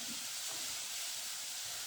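Leeks sizzling as they brown in a saucepan for a crustless leek quiche, a steady close hiss with no talking.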